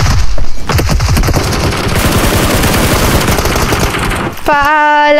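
Rapid automatic gunfire from a PUBG match, loud and close, with dense bursts of shots running almost continuously before giving way to a game tone at the end.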